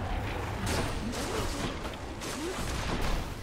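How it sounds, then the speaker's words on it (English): Dense, continuous blast-like rumble and crackle of explosions in the action game Hades, with sustained noisy bursts and swooping effects throughout and no talking. "He managed to just get out of the way of that explosion there."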